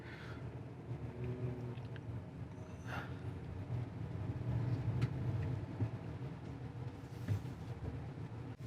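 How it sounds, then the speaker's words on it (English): A car drives slowly through a flooded area of Pitt Town near Sydney, producing a low, steady engine and road rumble heard faintly from inside, with a few light knocks and no talking. "I'll just drive down here and have a quick look for you"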